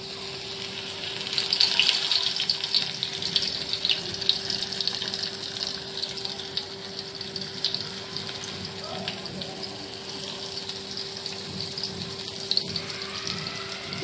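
Stuffed pomfret fillets, coated and laid in well-heated oil over a medium gas flame, fry with a steady, even sizzling hiss that carries on without a break, with a faint constant hum underneath.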